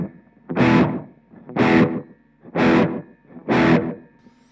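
Four evenly spaced distorted electric guitar chords ring out through a Blackstar Debut 10E amp, each followed by a short slapback delay that gives a roomy, reverberant tail.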